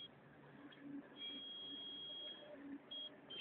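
A beach metal detector gives a clear steady electronic tone that holds for over a second, with shorter beeps before and after, over faint background noise.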